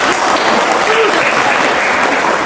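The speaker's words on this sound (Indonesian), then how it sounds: "boleh tepuk tangan" Steady, dense applause from a crowd fills the whole stretch, loud and continuous without pause.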